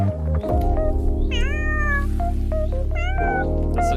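A cat meows loudly and repeatedly, with long drawn-out rising and falling cries over a steady low hum, close by.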